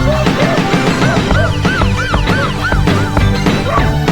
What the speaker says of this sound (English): We got a police siren in there.